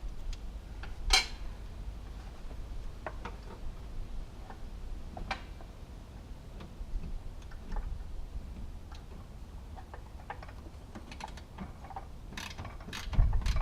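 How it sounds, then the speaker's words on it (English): A ratchet and spanner tighten bolts while an H brace is fitted to a Subaru Impreza, giving quiet, intermittent clicking and ticking ratchet strokes with occasional metallic knocks in a garage. "using the spanner and the ratchet, just kind of the opposite way"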